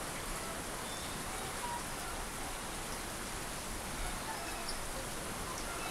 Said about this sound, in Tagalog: At sana humina ng ulan para hindi na tumaas ang tubig.